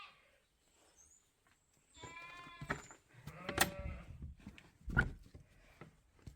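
Sheep bleating inside a barn converted from a dairy, several separate bleats at varying distance, some loud and near, with quiet gaps between.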